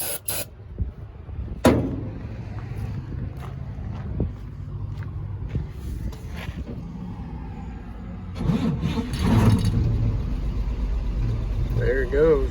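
Engine of a 1964 Chevrolet C20 truck cranks with brake cleaner sprayed in, a short hiss of spray and a steady whirring crank that grows louder toward the end, close by, with some talking.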